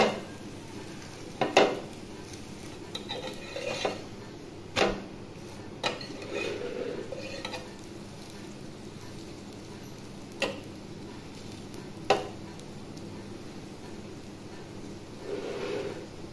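Aloo paratha frying on a pan, pressed flat as it cooks, with a low steady sizzle broken by scattered clinks and scraping taps of a spatula at irregular intervals.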